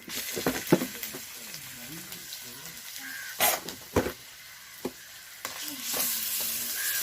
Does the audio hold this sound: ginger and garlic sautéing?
yes